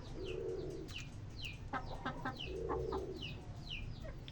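A hen clucks in soft repeated phrases alongside chirping bird calls, fairly faint against background noise with no talk.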